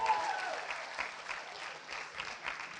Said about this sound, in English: Let's give Jack another round of applause